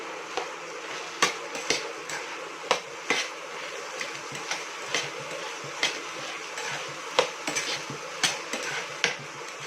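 Repeated scraping clinks of a spoon stirring vegetables, including capsicum, in a pan for pav bhaji, with a steady sizzle of frying underneath and no talking.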